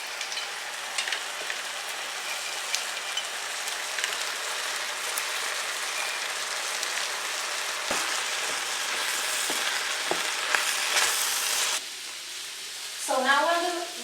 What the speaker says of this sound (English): when you have a little more space in the frying pan, you can add some mixed nuts and some raisins